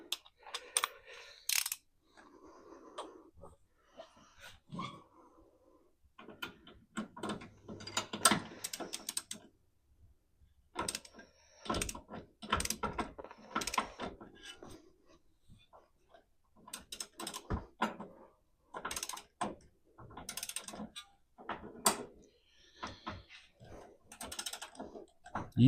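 Ratcheting wrench clicks and metallic clanks from tightening suspension bolts on a Crown Vic during a shockwave airbag swap, coming in irregular bursts of quick ratchet strokes with pauses, fairly close and moderately loud.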